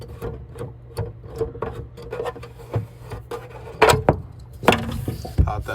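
Scraping and ticking of a screw being worked loose from a cover on a 2022 Keystone Cougar camper, close up with scattered clicks and a few sharper knocks.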